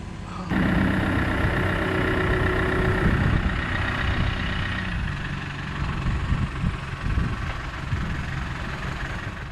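A heavy forklift engine idles with a steady low drone, starting abruptly and running continuously at moderate volume.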